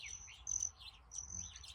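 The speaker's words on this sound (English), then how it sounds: "You also will likely hear a number of birds" Birds in a small mountain valley outdoors give a few thin, high chirps and whistled notes, fairly close, over a quiet low background hum.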